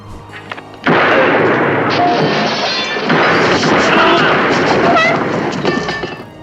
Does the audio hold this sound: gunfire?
yes